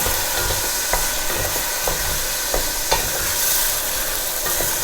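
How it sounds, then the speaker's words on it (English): Pork and onions browning in a pot for a Greek kokkinisto stew, stirred with a spoon: a steady broadband sizzle runs throughout, broken by scattered scraping clicks of the utensil against the pot, close and moderately loud with no talk. "Now we're giving it a good stir."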